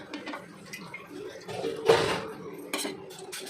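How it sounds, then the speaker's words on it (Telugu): A kadai pan set down on a stove, scattered metallic clanks and knocks with one louder clatter near the middle, close and moderately quiet. "ఒక కళాయి తీసుకొని స్టవ్ ఆన్ చేసుకొని కళాయి పెట్టాను"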